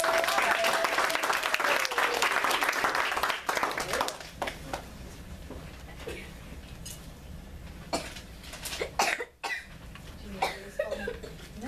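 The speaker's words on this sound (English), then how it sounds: "Let's give him a round of applause." Audience applause for Brody Barton at a talent show, a loud burst of many hands clapping for about four seconds that then thins into scattered claps, coughs and murmurs.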